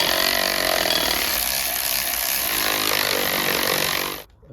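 A power tool on a socket removes a dampener bolt on a Porsche Cayenne driveline with a loud, steady, high-pitched mechanical whir. It runs unbroken for about four seconds, then cuts off abruptly.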